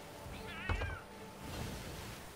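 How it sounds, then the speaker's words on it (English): A cat in the Sea of Thieves pirate game gives one faint, wavering meow aboard a burning sloop at sea, under steady wind and water noise. "I keep hearing a cat."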